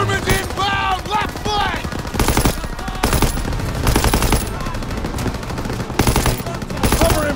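Machine gun fire rattles in bursts through a World War II battle in Call of Duty WW2, loud, rapid volleys repeating every second or so, mixed with other gunshots and shouted battlefield voices.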